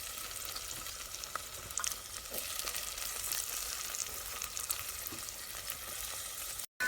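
Chopped onions and tomatoes fry in oil in a pan for a green pigeon pea curry, giving a steady close hiss and crackle with occasional scrapes of stirring and no voices.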